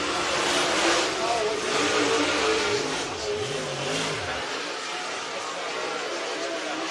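Race cars accelerate around the Sugar Creek track as a lap is completed, engines revving in rising and falling sweeps that sound fairly distant. A public-address announcer talks over them throughout.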